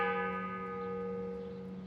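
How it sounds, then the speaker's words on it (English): A downloaded bell sound effect meant for covering swear words rings out as one sustained, resonant tone with steady harmonic overtones that slowly decay over about two seconds, clear and alone. "I even downloaded a bell sound"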